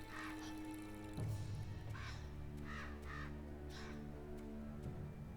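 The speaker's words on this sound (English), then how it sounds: "These birds are going to try to attack you and stuff." Crows caw in the Selma and the Wisp video game, several harsh calls spaced through the clip over a quiet, steady musical drone, faint and without talking.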